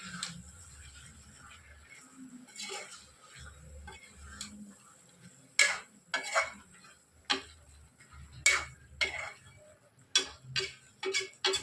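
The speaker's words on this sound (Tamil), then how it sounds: "தூவி நல்லா கிளறிக்கணும்." A spoon stirs spicy Andhra-style chicken with coriander and curry leaves in a pan, giving sharp irregular metallic clinks and scrapes that grow louder and quicker, with a soft low sizzle underneath.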